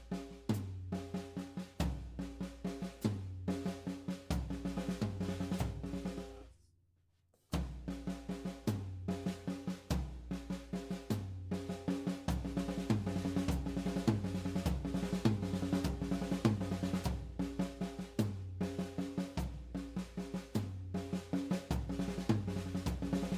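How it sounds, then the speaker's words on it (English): Drum rudiment doubles played around rack tom, floor tom and snare, fast even double strokes moving between the drums, with a brief stop before the pattern resumes. "between the tom and the snare, you know, the rack tom, floor tom, and the snare, doubling it"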